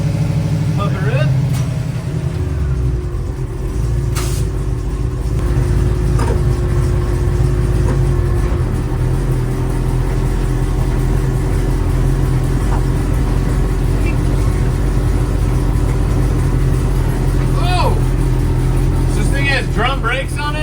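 A 1954 panel truck fitted with Holley Sniper EFI fuel injection drives along, its engine a loud, steady low rumble throughout, with a person talking over the running motor.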